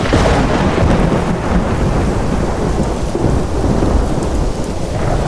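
Heavy rain pours down continuously with deep rumbling thunder rolling throughout, loud and close, with no voices.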